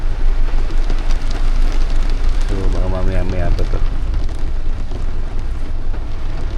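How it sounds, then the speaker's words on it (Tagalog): Heavy rain and strong wind roar aboard a ship during a storm at sea. The noise is steady, loud and broadband, and a person speaks briefly over it. "Sila ba yan ng malakas na ulan at hangin kasi."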